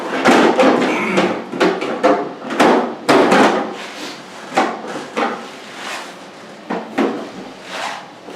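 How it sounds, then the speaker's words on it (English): A plastic battery cover on a Pride Mobility Victory 10 LX scooter is set back in place with a run of close, loud clacks and knocks, then softer, more spaced taps and rattles. "Then you put your cover back on."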